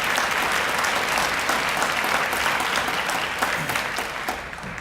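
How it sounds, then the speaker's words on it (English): Steady, dense clapping from a seated audience at a school academic achievers ceremony for seniors, sustained at an even level and tapering slightly at the close. "Let's give them a round of applause."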